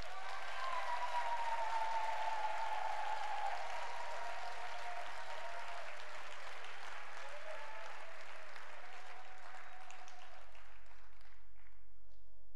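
A church congregation at a convention worship service applauds to acclaim the Lord, sustained clapping from a large crowd that fades out near the end, with a faint voice briefly over it.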